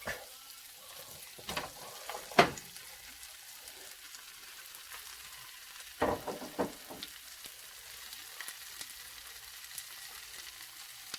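Chopped pork for spicy sisig fries in a pan, a faint, steady sizzle with a few sharper clatters and stirring knocks.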